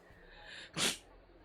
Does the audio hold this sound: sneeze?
yes